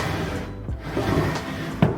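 A drawer in an old cabinet slides open or shut at close range, giving a brief wooden scrape and soft knock over quiet indoor background, with a small bump near the end.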